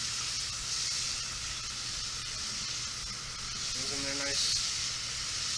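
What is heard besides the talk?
minced shallots sizzling in a pan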